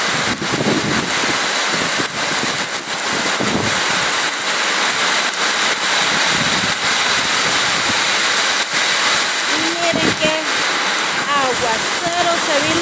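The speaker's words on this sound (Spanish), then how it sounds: "Aguacero se vino de repente." Sudden heavy downpour roaring as a loud broadband wash, close and continuous, with faint voices underneath in places.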